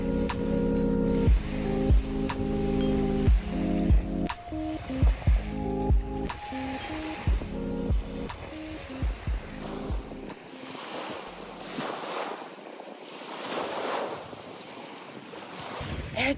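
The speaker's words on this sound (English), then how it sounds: "It's very chilly here and also windy." Chilly wind and waves at Harmony Beach in Canada, a broad steady wash of surf under gusty wind rumble on the microphone, with some clicks and tonal noise early on and no speech.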